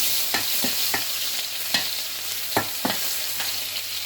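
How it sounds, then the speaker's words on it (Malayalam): Garlic and fennel seeds fry in hot oil in a pan, giving a steady close sizzle with several sharp spoon stirs and scrapes spaced through it; no voices. "പാൻ ചൂടായി എണ്ണ ഒഴിച്ച് കൊടുത്തതിലോട്ട് ഒരു സ്പൂൺ പെരിഞ്ചീരം ഇട്ട് കൊടുക്കാം നമുക്ക് നമ്മൾ എടുത്തു വെച്ച ഗാർലിക്കിന് ആഡ് ചെയ്ത് കൊടുക്കാം"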